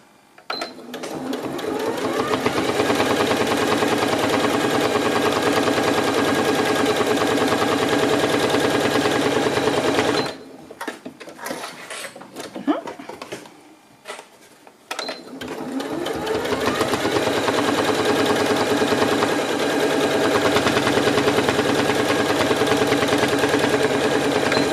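A sewing machine straight-stitching along a fabric bag pocket, running loud and steady with a rapid mechanical chatter, pausing briefly midway before resuming, close up with no talking.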